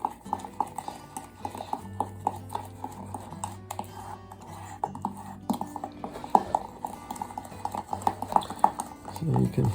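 A flexible spoon stirs thickening bubble solution in a mug, giving rapid light clinks and scrapes against the sides in an uneven rhythm, close, with a voice talking at times.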